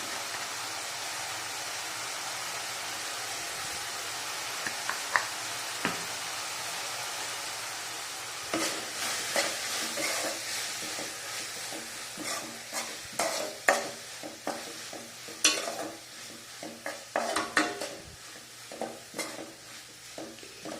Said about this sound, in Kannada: ಇದು ಒಂದು ನಿಮಿಷ ಇದರಲ್ಲೇ ಸ್ವಲ್ಪ ಫ್ರೈ ಆಗಲಿ